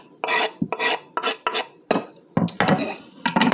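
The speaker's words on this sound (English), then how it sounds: "You're going to give it a good stir so you can see how it looks" A spoon stirs Armenian cucumber salad (jajeek) in a bowl, producing a series of close, wet scraping and clinking strokes in an irregular rhythm.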